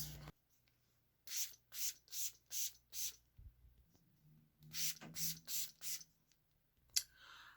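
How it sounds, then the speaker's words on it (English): Short bursts of room freshener spray hiss close by in a home, two runs of five or six quick puffs separated by a pause, with a final single spritz. "So I want to go and spray this in his room now"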